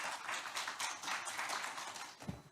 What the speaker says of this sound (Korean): 여러분 박수로 모셔주시면 고맙겠습니다